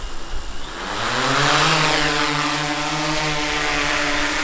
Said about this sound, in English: Drag the sticks, you can hear it spin up